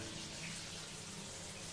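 Steady broadband rush of running water, like a shower spraying in a shabby bathroom in an action adventure game, continuous and fairly loud with no voices.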